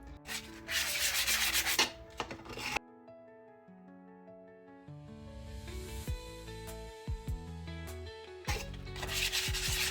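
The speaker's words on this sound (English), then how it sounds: "I'm going to be doing some wet dry sandpaper as well. Try and smooth it out just a little bit more." Wet-and-dry sandpaper rubbing over cured epoxy resin on a resin night light, steady scratchy strokes in close bursts at the start and end, with a quieter musical stretch between them.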